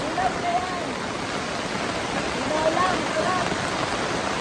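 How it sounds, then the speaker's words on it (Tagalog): Heavy rain pours steadily in a dense hiss in Alfonso, with faint voices speaking briefly underneath. "maglalakad na lang kami dahil ang lakas ng ulan ngayon dito sa Alfonso"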